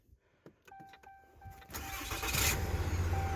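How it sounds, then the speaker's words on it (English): A hunting truck's engine cranks with several short starter clicks, then catches and settles into a steady, fairly loud idle close by, with no talking. "All right, truck is running."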